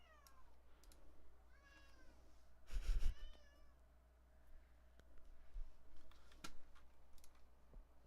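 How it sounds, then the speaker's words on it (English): A cat in a bedroom meows several times, with short rising and falling calls spread through the clip, moderately close and fairly quiet, alongside a brief thump and faint keyboard typing. "My cat is in my room."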